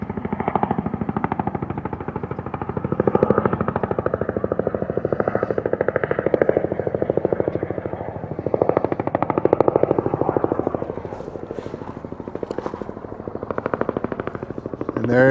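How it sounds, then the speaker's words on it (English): A firefighting helicopter carrying a water basket at the Larch Creek Fire makes a steady, chopping rotor drone that swells and fades slightly over the whole stretch, heard from a moderate distance with no talking. "And there is another helicopter that's a little ways off."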